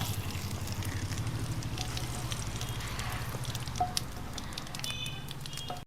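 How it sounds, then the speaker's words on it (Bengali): Bay leaf, dried chili and cumin tempered in hot oil left from frying pointed gourd, giving a steady close crackling sizzle throughout with a few brief pops. "পটল ভাজার তেলে এবার আমি ফোড়ন দিয়ে দেবো তেজপাতা,"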